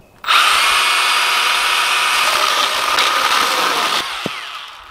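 A Milwaukee Hatchet 6-inch cordless reciprocating saw cuts through tree branches, giving a loud, steady buzzing whine that holds for about four seconds and then eases off as the cut finishes.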